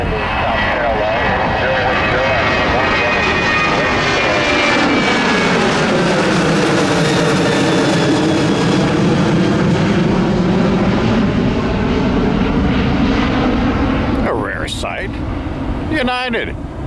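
Airliner jet engines roar at full takeoff power, a loud, sustained rushing drone with a shifting whine that swells then recedes as the plane climbs away, with a couple of brief clicks near the end.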